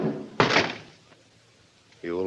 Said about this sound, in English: and Baldy kicked the door shut.